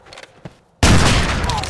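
Gunfire in a Western film shootout erupts suddenly after a quiet moment, a loud dense burst of overlapping shots that keeps going, with brief faint sounds before it.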